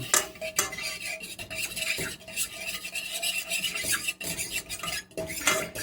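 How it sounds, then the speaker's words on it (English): A utensil scrapes and stirs through a thick mushroom stuffing mixture bound with a little cornstarch, giving a steady run of close clinking and scraping against a bowl, with no talk. "We want to mix that up pretty good."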